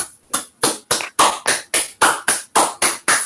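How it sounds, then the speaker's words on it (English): An online seminar audience unmutes together for a round of applause. About eleven sharp, evenly spaced claps follow one another in a steady, close rhythm, with no talk. "let's all unmute and give Kevin a round of applause"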